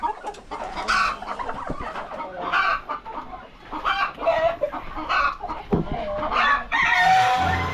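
Chickens and chicks on a small farm cluck and crow repeatedly in a busy, continuous chorus, fairly close and moderately loud, with no talk over them.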